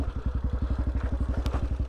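A TBR7 dirt bike fitted with a performance camshaft and a 17-42 sprocket combo, ridden off-road, gives a loud, close, rapid pulsing engine thump at steady rhythm throughout.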